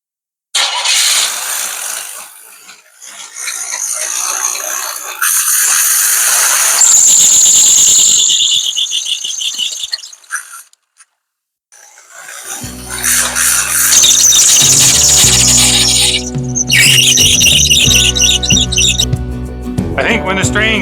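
A 1985 Cadillac engine cranks and runs with a loud, high-pitched alternator belt squeal that rises and falls in long bursts, a short pause in the middle, then the engine roars again with more squealing over it.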